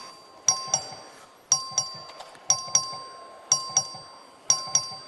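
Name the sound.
voting bell ringing in the Texas House chamber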